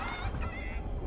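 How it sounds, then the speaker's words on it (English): Brief clucking and honking chicken calls in the video game Fortnite, close and fairly clear, lasting only about a second. "Oh, chickens."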